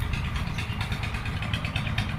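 A Voltron engine powers a farm irrigation pump, running at a steady, loud idle with an even mechanical chug that holds throughout, alone and without voices.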